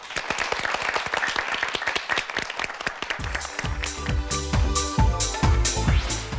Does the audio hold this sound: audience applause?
yes